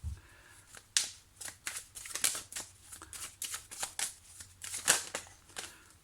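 Tarot cards shuffled by hand for a reading, a rapid series of soft riffling and slapping bursts in an uneven rhythm, close but quiet.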